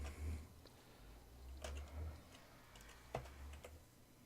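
Keys are tapped on a computer keyboard as a program name is typed. There are a few light, sparse clicks, faint and close, over a low hum.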